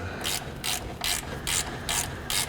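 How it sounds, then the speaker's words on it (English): A ratchet wrench clicks in five quick, evenly spaced bursts while tightening fasteners during a radiator replacement on a 1998 Acura TL, close and clear with no talk. "now that all the fasteners are in, you can start tightening them down"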